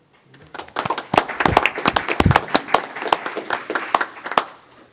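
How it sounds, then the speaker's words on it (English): Applause at a city council meeting honoring a retiree's years of service, a small group's sparse, distinct hand claps, close and uneven, rising quickly and thinning out toward the end. "So if you would all please give Mr. Fox an applause"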